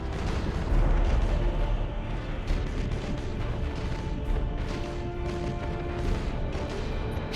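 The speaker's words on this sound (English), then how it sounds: "Fire all weapons!" Starship weapons in Battlefleet Gothic Armada unleash a sustained barrage of heavy booming blasts and rumbling explosions, loud and dense throughout with no pauses.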